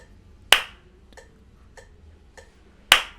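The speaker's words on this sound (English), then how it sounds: "The claps represent the start of the phrase and time signature." A pair of crisp, close hand claps mark the downbeat of a four-count phrase in a polymeter exercise. Three faint, evenly spaced ticks keep time between the claps.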